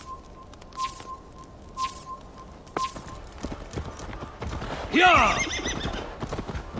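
Horses in a race in the video game Assassin's Creed Valhalla: a few sharp hoofbeats, then a loud whinny and a shouted cheer near the end, with birdsong in the background.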